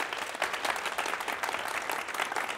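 A gathering at a talk on masculine energy bursts into sustained, even applause, a dense wash of clapping hands at moderate distance with no voices over it.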